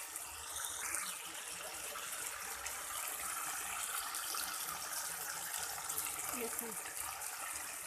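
Water pours steadily into a pot of chana dal as it cooks, a continuous close gush lasting several seconds while someone speaks briefly over it.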